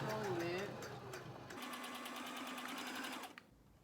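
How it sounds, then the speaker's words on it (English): A sewing machine stitches a frontal wig, running in a steady fast whir for about two seconds, then stopping. A person speaks softly just before it starts. "the good thing about sewing with the sewing machine is you can stop."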